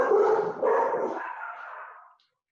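Dogs bark loudly nearby in a short burst of overlapping yaps that trail off into silence, with no talking.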